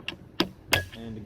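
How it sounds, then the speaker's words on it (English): A torque wrench tightens the screws of a Leupold IMS scope mount and gives three sharp, close clicks in quick succession, followed by a faint metallic ring. "torquing the front, torquing the rear"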